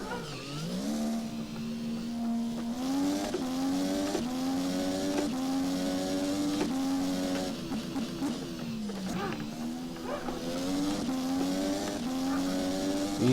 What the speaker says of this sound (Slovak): rýchlo naštartujem voz a idem na trať